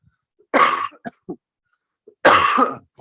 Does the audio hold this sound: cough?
yes